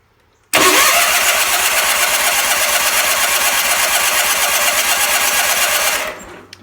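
A Roper RT16T clone garden tractor engine catches abruptly and runs loud and steady for about five seconds with a dense, rapid firing rhythm, then cuts off near the end.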